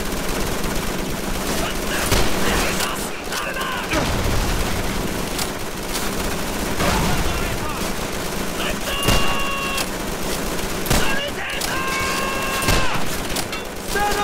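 Heavy gunfire in the World War II shooter Call of Duty 3 crackles in dense, overlapping bursts of rifle and machine-gun fire, with sharper shots and loud thuds punctuating a constant battle din while voices shout through the chaos.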